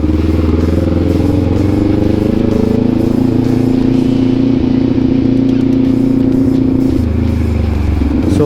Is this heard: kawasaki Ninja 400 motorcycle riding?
yes